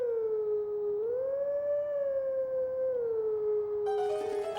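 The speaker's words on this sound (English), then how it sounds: "And it shows you kind of how you're going to howl." Wolf howl in Zelda: Twilight Princess, a single long, clear howl that rises, holds and falls back, with a brief noisy burst at the end.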